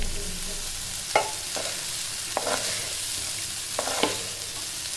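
Cooked basmati rice being stir-fried in a pan with egg and chicken, a continuous close sizzle broken by several sharp scraping clatters of a spatula.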